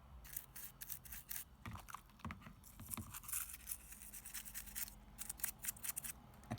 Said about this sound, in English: Attacking a Gameboy with a toothbrush